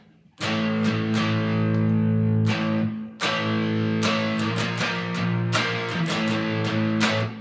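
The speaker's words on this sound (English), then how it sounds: "Let's use stylistically appropriate distortion. Use a DS1." Heavily distorted electric guitar through a Boss DS-1 distortion pedal strums sustained power chords, loud and saturated, with a brief break before the chords ring out again.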